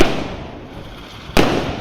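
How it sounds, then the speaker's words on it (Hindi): Firecrackers bursting outdoors during a celebration, a steady crackling wash with one sharper, louder bang near the end, heard from a distance. "आज बम बजता है बाहर,"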